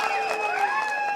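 Applause from an audience at a BRS party joining event for Aroori Ramesh, a steady close wash of clapping lasting about a second, with whistle-like tones and a little speech mixed in.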